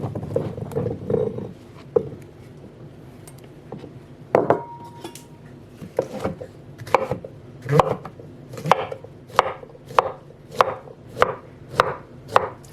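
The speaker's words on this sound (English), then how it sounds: "I just roughly chopped my mushrooms and now I'm gonna put them on the pan." A knife roughly chopping mushrooms on a cutting board gives a series of sharp, evenly spaced thuds that grow steady and rhythmic toward the end. The chopping is close and distinct, with no voices.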